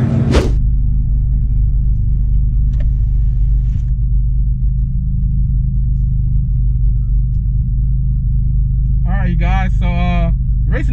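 A 9th-generation Honda Civic Si at a drag strip, lined up to race a GTR, gives a steady low engine rumble that drones the whole time, with brief sharp bursts early on and a voice speaking near the end.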